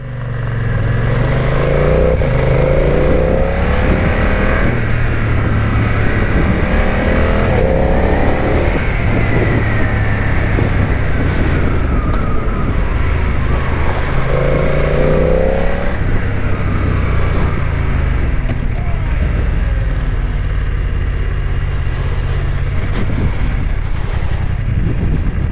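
A Yamaha 600XT single-cylinder motorcycle is ridden on the road, its engine droning loudly and continuously with rising and falling revs across gear changes, mixed with wind rush.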